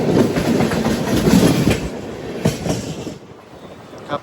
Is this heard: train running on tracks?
yes